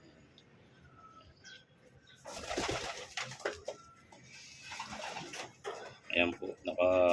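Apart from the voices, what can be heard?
arriving racing birds cooing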